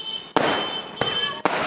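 Diwali firecrackers bursting outdoors near a college in Nalbari, three sharp loud bangs spaced irregularly, each followed by a crackling, ringing tail.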